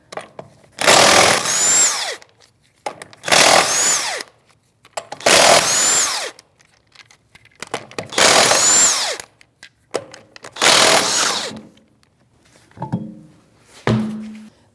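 A power tool on a 19mm socket spins wheel nuts off a Chevrolet Malibu with five loud, close bursts of roughly a second each, separated by short pauses, then a few softer knocks and clunks.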